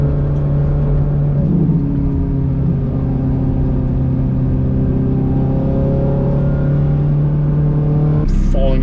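A Ferrari F430 fitted with a Fabspeed exhaust runs loud and close, its engine droning and swelling through steady revs with a deep rasp, with brief voices audible beneath.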